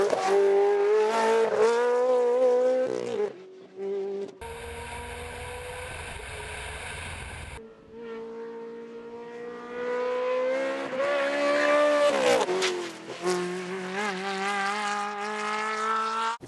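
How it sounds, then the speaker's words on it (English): Ferrari 360 Modena Challenge race car on track, its engine screaming loud and close through rising revs and quick shifts, with a brief cut to a different steady sound in the middle before the howl returns. "this has to be one of the best-sounding race cars around"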